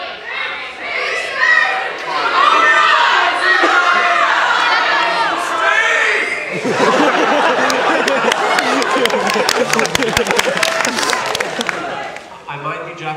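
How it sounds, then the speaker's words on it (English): A convention crowd at the AVCon anime event shouts and cheers. Excited voices and children's shouts rise loudly, then give way to claps and lively chatter before fading near the end. "What were people shouting over there?"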